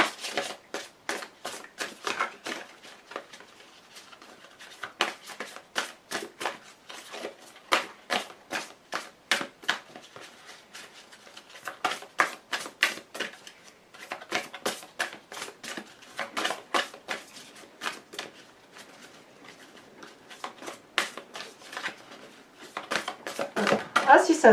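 Large oracle cards shuffled and riffled by hand, a steady run of quick, crisp papery flicks and taps in irregular bursts, close to the microphone, growing louder near the end.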